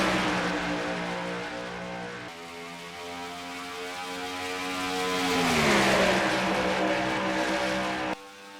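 Race trucks in a truck racing video game roar away at Charlotte, engines droning loudly as their pitch climbs and then sweeps down before rising again, with abrupt cuts in the sound.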